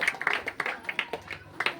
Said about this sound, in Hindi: ताली में धन्यवाद करिए।